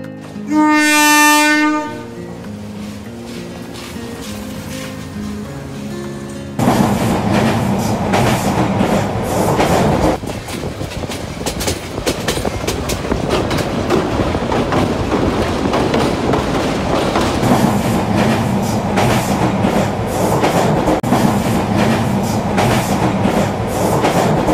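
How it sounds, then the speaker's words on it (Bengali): A train pulls in at a Bangladeshi station on the Srimangal route, its horn blaring briefly at the start, then loud rumbling wheels and clattering carriages rolling past close by for a sustained stretch. "চা খেতে খেতে ট্রেনও চলে আসলো।"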